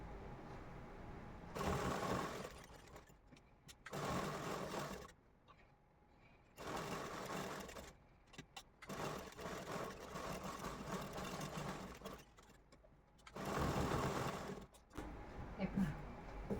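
A sewing machine stitches the lining onto a puff sleeve, running in several steady bursts of a few seconds each with short quiet pauses between them, close and moderately loud.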